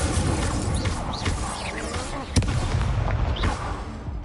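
Incendio fire spell cast in Hogwarts Legacy, a sudden crackling blast partway through amid continuous game battle effects and swishing sounds.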